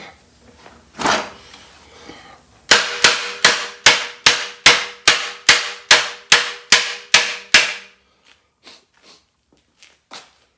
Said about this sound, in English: put your hammer moving the direction you want to move the metal